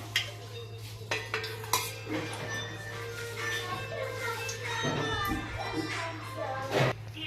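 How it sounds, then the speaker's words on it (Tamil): Cooking pot set down on a stove and oil poured in while making a simple Tamil vegetable biryani, with metal clanks and utensil clatter close by, a steady hum underneath and faint children's voices. "பாத்திரம் வச்சுட்டு தேவையான அளவு எண்ணெய் ஊற்றிக்கலாம்"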